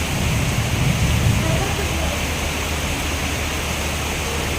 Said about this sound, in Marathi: पाऊस लवकर थांबत नाही चालूच आहे कंटिन्यू पाऊस चालू आहे अर्धा तासच्या वरती खूप जोरात